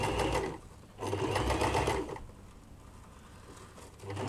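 Sewing machine stitching a fabric flounce, a close mechanical whirring hum that runs in short bursts with pauses between them, no talk.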